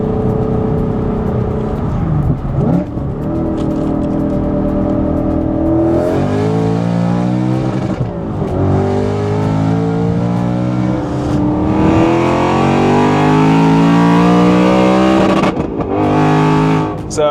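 A 1000 bhp Ford Mustang Dark Horse (S650) accelerating hard in third gear, its engine climbing through loud rising revs in repeated surges, close and dominant throughout.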